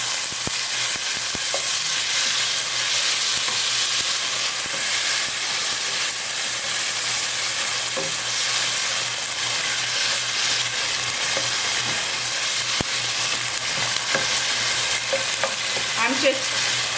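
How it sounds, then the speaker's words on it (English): A spoon stirs tomato sauce and cubes of sofrito in a pot for Puerto Rican-style beans, with soft scraping and clinks over a constant simmering sizzle and low hum. "So now I'm going to add my tomato sauce and my 2 cubes of sofrito. And I'm going to give it a stir."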